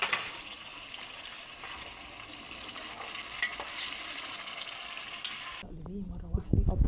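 Rice and chopped greens for a cabbage mahshi stuffing sizzle and are stirred in a pan of tomato sauce, a steady close frying hiss that cuts off near the end, leaving a few soft knocks.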